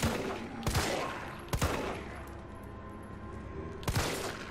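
Gunshots from a handgun in the video game Resident Evil 3 Remake, three loud separate blasts spaced about a second or more apart, with no talk over them.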